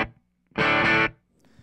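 A Telecaster electric guitar played dry through a Two-Rock amp with the reverb pedal bypassed: one loud, sustained strummed chord that cuts off abruptly, then silence.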